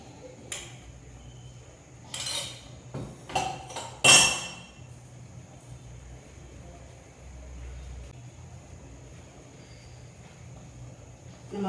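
Metal idli plates wiped with sesame oil, a few scattered clinks and knocks of metal early on, then mostly quiet kitchen background.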